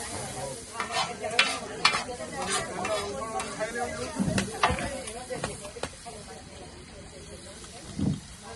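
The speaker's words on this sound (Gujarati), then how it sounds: "હવે આ કુલચા બનાવું, કુલચા તળું થાય." Kulcha bread frying in hot oil, a close crackling sizzle with scraping stir strokes and intermittent bursts, fading toward the end, with occasional voices nearby.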